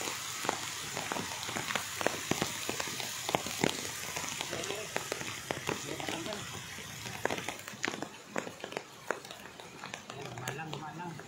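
Rain patters steadily near a river in Tanawan, Batangas, a dense crackling hiss with frequent sharp drops striking surfaces close by, continuing for the whole stretch.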